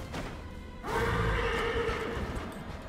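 A horse in the video game Darksiders Genesis lets out a loud, drawn-out whinny after a brief lead-in, the neigh sustained and wavering over a soft game background.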